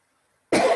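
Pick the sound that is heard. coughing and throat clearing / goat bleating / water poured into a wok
coughing and throat clearing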